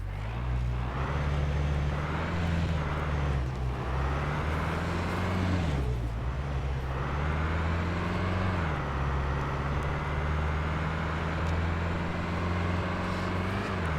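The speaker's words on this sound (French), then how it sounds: "le petit défaut de ces voitures, c'est qu'elles font beaucoup de bruit" Car engine droning steadily while driving in the video game SCUM, a loud continuous low hum with shifting pitch as the vehicle speeds up and slows, running alone for the whole stretch.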